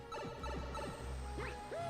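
A mobile phone ringtone goes off during a Super Mario Galaxy game session, a short run of bright, chirpy melodic tones and rising sweeps over steady game music.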